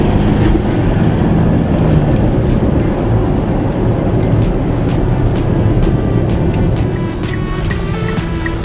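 Inside a Mitsubishi Pajero Sport with an 8-speed transmission, a low engine rumble and road noise build under acceleration, steady and fairly loud, with faint ticking clicks near the end.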